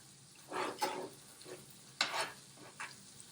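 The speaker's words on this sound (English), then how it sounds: "now that I have the rosemary and the butter added, I'm gonna kind of move it around a little bit" Butter and rosemary sizzling in a pan while being stirred, with soft scraping bursts of frying noise coming in uneven waves, close and fairly quiet, no voices.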